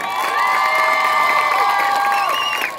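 Audience cheering and applauding at an Eritrean independence celebration honoring a youth dance group, a dense, loud crowd roar with high shouts and whoops, continuous throughout.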